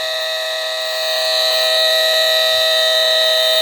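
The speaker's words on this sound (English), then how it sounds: "And the alarm goes on." A vintage Masterguard 300 electronic smoke detector alarm emits a loud, continuous, high-pitched electronic tone, steady and unbroken throughout, with no talk.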